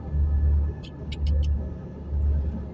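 A Lada car drives across fields in a low, pulsing engine rumble that rises and falls in waves, with a few faint high clicks partway through and no voices.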